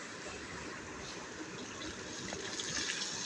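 A little water is poured into frying ground spice masala for fish curry, giving a soft continuous gush and hiss that grows slightly louder toward the end, with no voices.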